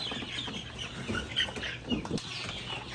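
Heritage chicks cluck and flutter faintly as they are caught one by one in the dark and moved into a cage, soft scattered calls with brief wing flapping.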